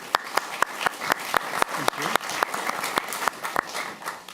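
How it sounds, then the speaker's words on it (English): Scattered audience applause greeting a speaker at an energy-transition talk, with sharp individual claps standing out over a thin, uneven clapping bed and some background voices. "give him an applause."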